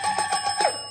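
A bell rings in quick repeated strikes, four or five bright metallic rings in one second, close and fairly loud, with no talk over it.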